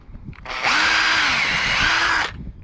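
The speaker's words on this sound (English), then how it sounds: "you can just let the drill pull itself into the timber" Power drill boring a hole into timber for a folding garden kneeler repair, a close, loud whirring burst of about two seconds that dips in pitch as the bit bites.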